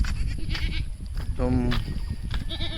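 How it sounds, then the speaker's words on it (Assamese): One local goat, herded out in rainy weather, gives a single clear bleat midway, while a person talks throughout. "ছাগলী খেদিলৈ যাই আছোঁ বৰষুণ বতৰ"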